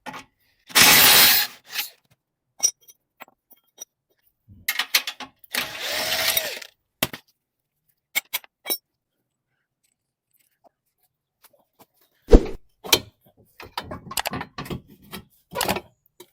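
Ratchet wrench loosening a 21 mm bolt on a Nissan Juke control arm, heard as bursts of quick clicking with pauses between, fairly close and without talk.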